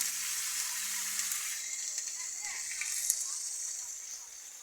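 Browned onion with garlic, chili, turmeric, cumin and ginger pastes and salt sizzles in a pan for a chicken curry, giving a steady, close frying hiss that holds throughout.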